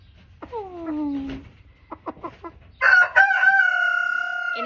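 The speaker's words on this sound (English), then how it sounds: "She's an Orpington, I think." Orpington hen clucking close by, a few short descending calls and clucks, then a longer, louder sustained vocal cry near the end.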